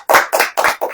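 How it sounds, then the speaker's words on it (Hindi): Four sharp bursts of hand clapping at a church service, close and loud with a steady rhythm, heard alone without talk. "ताली बजाइए"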